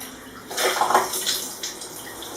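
Water poured from a tap into a measuring glass while making basbousa, a brief splashing gush that swells and then trails off, close and fairly loud with no talk.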